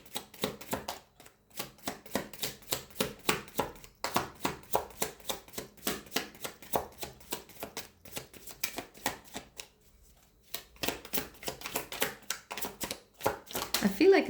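Tarot cards are shuffled and drawn in quick, rhythmic bursts of riffling and slapping, close and fairly quiet, with a brief pause near the middle before the shuffling resumes.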